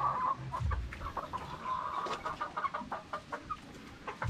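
Young gamefowl roosters of the Sweater breed, about four months old, cluck softly in short bursts at close range, a few low calls scattered across a quiet background.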